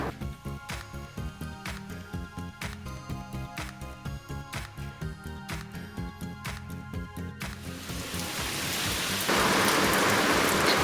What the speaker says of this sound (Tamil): கொஞ்ச நேரத்துக்குள்ளே நல்லா மழை வந்துட்டு